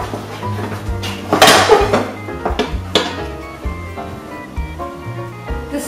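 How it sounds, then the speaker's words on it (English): A dish set on top of a pan for flipping a stuffed beef and potato cake, with a loud clattering clank near the middle and lighter knocks of dishware and utensils around it in a home kitchen. "Gonna put this dish on top and turn it over because I can't fill it."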